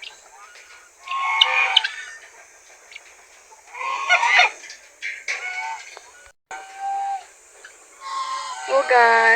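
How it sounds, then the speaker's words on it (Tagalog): Geese honking on a mountain farm, several loud, nasal honks in separate bursts with short pauses between them, close by and clear. "Tingnan mo yung ganso"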